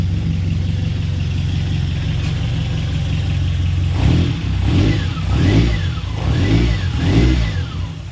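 A 1.4 carbureted car engine, just repaired after a no-spark fault, idles steadily, then revs up several times in a row, each rise in pitch swelling and falling back, loud and close.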